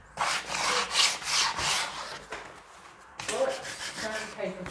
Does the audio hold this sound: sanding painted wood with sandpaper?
yes